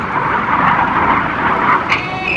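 Red Arrows jets fly the carousel 6G turn at an airshow, a continuous loud roaring jet engine rush that holds steady, with no talk.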